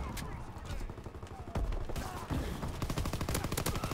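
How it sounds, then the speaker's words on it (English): Rapid gunfire in the Call of Duty WW2 shooter game, dense overlapping shots in quick bursts, some close and loud, with a player talking over the action. "how many shotguns are needed to be spammed?"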